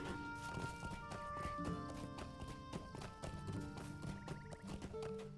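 Horse hooves clip-clop in a steady walking rhythm in The Lord of the Rings Online, close and clear over sustained game music tones and ambient sound.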